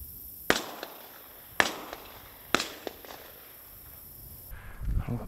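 Three sharp shotgun blasts spaced about a second apart ring out during a pigeon hunt at farm silos, each a loud crack with a short tail, followed by quieter rustling and handling noise.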